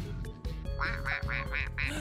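A duck quacks five times in a quick, even series, fairly loud and close, after a short stretch of other voice-like sounds at the start.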